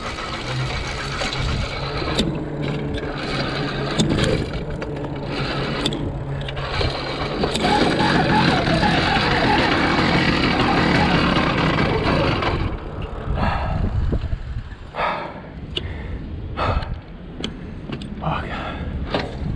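A motorized bicycle's small engine, fitted with new jets, sputters and revs unevenly as it is started with throttle and choke, its buzzing surging and fading close by before dropping away and returning in short bursts.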